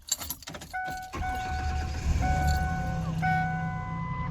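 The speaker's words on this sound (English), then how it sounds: "Get my truck started." A truck engine cranks and starts on a freezing snowy morning at a camp, with clicks and jangling first, then a steady idle with a chiming warning tone close by.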